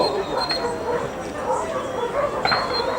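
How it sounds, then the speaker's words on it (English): A seven-year-old Labrador at a country game fair whimpers, yips and gives short barks in brief bursts, fairly close, while an announcer talks over the outdoor crowd. "And this 7-year-old Labrador dog going first, Hoshi of the Charmed Angel"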